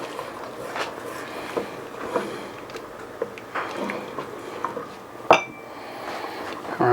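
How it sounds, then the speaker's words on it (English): Spoon scraping and clinking against a pot while beef stew with dry thyme is stirred, soft irregular knocks and scrapes over a low simmering background. "Give this a stir"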